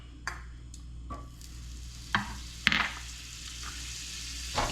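Butter sizzles softly in a crepe pan over medium heat, a faint continuous frying hiss broken by a few sharp clicks and scrapes of a utensil against the pan.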